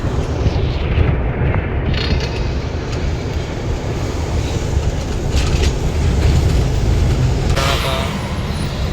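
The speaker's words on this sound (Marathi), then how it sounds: "मित्रांनो समोर तुम्ही ट्रेन बघू शकता" A train passes near a road during a trip, a loud, steady rumbling roar that runs throughout without a break, with faint voices mixed into the noise.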